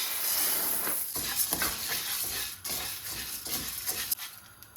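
Medium-roasted coffee beans dry-roasting in a pan for homemade winter coffee powder, giving a close, continuous sizzling hiss broken by repeated scraping and stirring strokes, with no voices.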